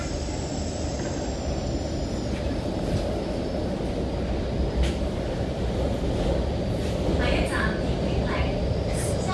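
An MTR K-Train subway car running on Hong Kong's Tseung Kwan O line toward LOHAS Park, a steady loud broadband roar of wheels and track inside the carriage with faint high squeals and brief rattles, no clear talk.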